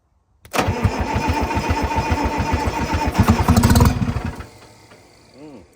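A Detroit Diesel 3-53 two-stroke engine cranks over on ether, a fast loud chugging burst that catches and roars briefly before dying away, leaving a faint tail.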